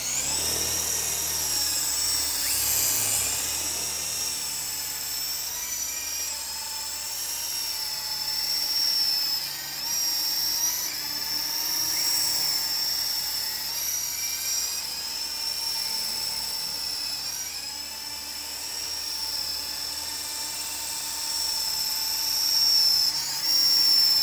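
Thunder RC helicopter in flight, a continuous high, loud motor whine with a steady rotor drone that wavers slightly in pitch and level throughout, close by and without talk.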